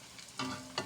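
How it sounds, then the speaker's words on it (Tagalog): Chicken skin fries in hot oil as a soft crackling sizzle, with a few brief stirring scrapes and bubbling bursts, close and quiet. "Hapit na ni maluto ang ato ang kinupsan na chicken skin."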